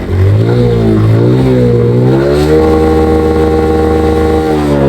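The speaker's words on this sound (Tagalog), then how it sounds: "nawala ng puwersa ang aking motor at namatay. Pero kalaunan ay umanda rin naman ulit." A motorcycle engine rumbles loud and close after restarting, revving with rising pitch through several surges before settling into a steady, higher-pitched drone.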